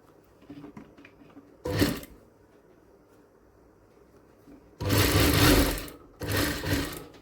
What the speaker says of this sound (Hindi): एक सिलाई लगा दिया